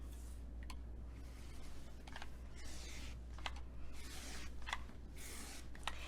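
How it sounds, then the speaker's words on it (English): Scissors snip through foundation paper along dotted lines for a paper rose quilt block, giving several faint, separate crisp cuts with quiet pauses in a still room. "then we're going to cut on the dotted lines only."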